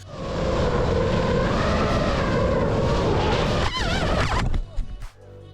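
Steady loud whirring engine-like hum of drone motors, continuous for several seconds, with a rising and falling pitch warble near the end before it cuts off.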